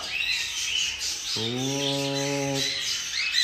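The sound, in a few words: birds calling, albino hens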